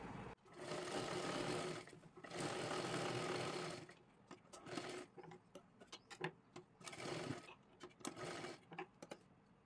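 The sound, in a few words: sewing machine stitching a kurti top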